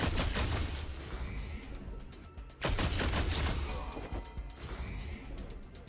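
Gunfire from the post-apocalyptic tactical game Wasteland 3 comes as two quiet bursts of rapid shots, the second starting with a sharp crack partway through.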